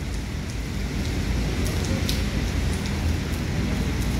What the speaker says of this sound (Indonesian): hujan Kota Palembang